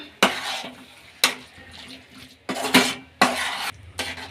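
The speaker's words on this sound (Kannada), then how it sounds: "ಈಗ ಕೊನೆಯದಾಗಿ ಕೊತ್ತಂಬರಿ ಸೊಪ್ಪು ಹಾಕ್ಕೊಳ್ಳೋಣ ಈಗ ಮಿಕ್ಸ್ ಮಾಡ್ಕೊಳ್ಳೋಣ" A spoon scrapes and clatters against a pan while potato palya with coriander leaves is mixed, several sharp stirring strokes in an irregular rhythm, close and clear with no talking.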